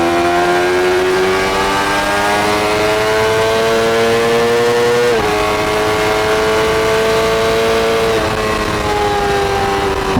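A Honda CBR600RR motorcycle engine hums steadily and loud through a run of turns, its pitch climbing gradually, dipping briefly at a gear change, then rising again with the speed.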